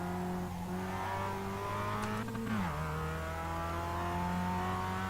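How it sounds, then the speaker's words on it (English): A 2016 Mazda Global MX-5 race car laps the Okayama short course, its engine droning steadily with a brief downshift dip and then climbing revs, loud and close without speech. "We're taking a few laps in the Global MX-5 2016"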